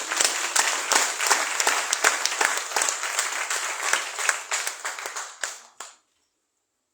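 A congregation applauds during a Catholic Mass, producing dense, lively clapping that fills the church for about six seconds before stopping abruptly into silence.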